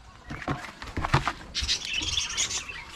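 Birds chirp in short, bright bursts near a septic tank area outdoors, scattered and fairly soft, with fluttering and rustling sounds beneath and a denser run of high twittering toward the end.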